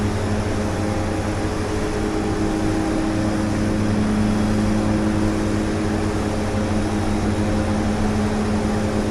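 Twin Otter turboprop engines drone steadily during a climb in a flight simulator, a loud, continuous propeller hum with stable tonal bands that hold evenly throughout with no talking.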